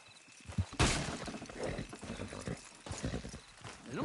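Hooves of horses in Red Dead Redemption 2 clop in a steady uneven rhythm, near and fairly loud, with a sharp burst early on and faint snorts mixed into the hoofbeats.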